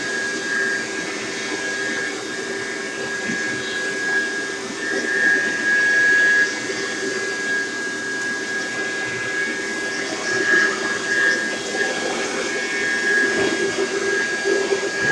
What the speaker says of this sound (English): We're gonna vacuum half the front room.